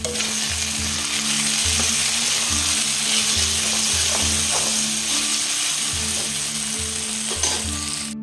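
Chicken fries in a pan for chicken Maggi, making a steady loud hiss and sizzle up close, with a low pulsing hum running beneath it throughout and no talking.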